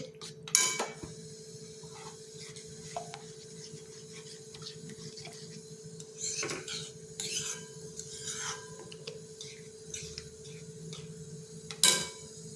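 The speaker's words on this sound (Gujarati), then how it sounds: "આપણે બધું જ મિક્સ કરી લઈશું." A utensil scrapes and rubs against a pan in short, uneven bursts while stirring potato curry gravy with water, with a few sharper clinks of metal, close by and moderately quiet.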